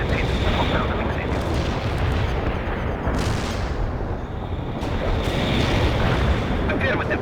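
Artillery barrage in the World in Conflict strategy game, a continuous dense rumble of booming blasts rolling on without pause for several seconds, with a few sharper cracks near the midpoint and game radio voices mixed in.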